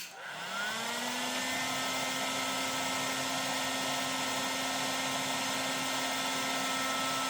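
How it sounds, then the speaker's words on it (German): A 1200-watt hair dryer powered by a BLUETTI Balco 260 battery storage unit, switching on and rising quickly into a loud, steady whooshing blower roar with a constant motor whine, running alone for several seconds. "Und jetzt schalte ich den Föhn mal ein und dann schauen wir, ob das Balco diese Leistung erbringt."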